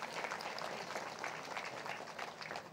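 Dense, steady audience applause fills a hall at a Telugu spiritual gathering honoring a Seva Dal leader, many hands clapping at a fairly even level with no speech over it.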